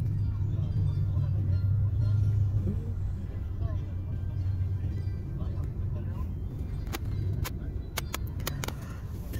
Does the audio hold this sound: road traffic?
yes